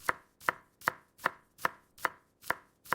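Onions are chopped with a knife in eight steady, regular strokes, each a clear, close, crisp thud on the board, evenly paced at under half-second intervals, with no talking.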